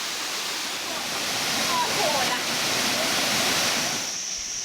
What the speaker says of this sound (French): c'est un enchaînement de 50 cascades éparpillées sur 7 niveaux